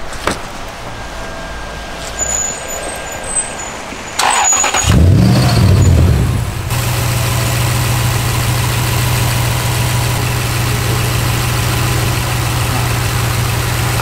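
A Lexus GS430 with a swapped 3UZ-FE V8 in place of the hybrid system cranks briefly and fires up, then settles into a loud, steady, deep idle close by.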